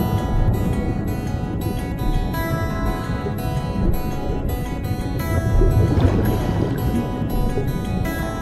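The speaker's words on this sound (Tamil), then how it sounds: "சின்ன ஒரு போட்டில் வச்சு கூட்டு போக ஆரம்பிச்சாங்க" A small boat cruising through the Kerala backwaters and mangrove forest gives a steady, close engine rumble mixed with water wash throughout.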